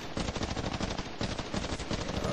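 Rapid automatic gunfire from the video game Medal of Honor, a dense, continuous burst of machine-gun shots with brief pauses, loud and close throughout.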